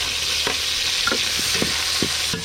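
Ginger, tomato and onion sautéing for monggo, a steady close sizzle broken by several sharp scrapes and clacks of a utensil stirring in the pan, with no voices.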